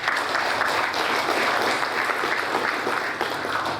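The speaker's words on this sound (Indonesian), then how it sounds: "Mari kita beri aplaus untuk Disipol." Sustained applause from a graduation ceremony audience at Stisipol Silas Papare, a dense, steady wash of many hands clapping at close range for nearly four seconds without pause.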